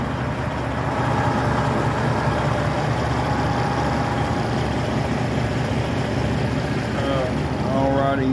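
A parked diesel pickup truck idles steadily, a continuous low rumbling drone with a faint whine, close and constant for the whole stretch.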